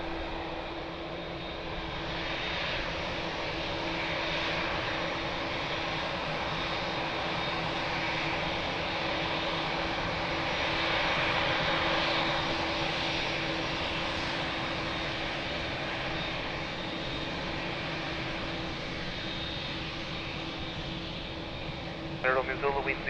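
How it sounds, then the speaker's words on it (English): Airplane landing at Lisbon Airport, a steady broadband engine roar that holds loud and close for most of the stretch, with a radio voice crackling briefly near the end. "Nice lofty landing."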